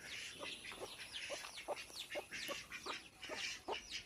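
A hen with her chicks on a farm gives a steady run of soft, rhythmic clucks mixed with faint peeping, heard at a moderate distance over a hissy outdoor background, with no talking.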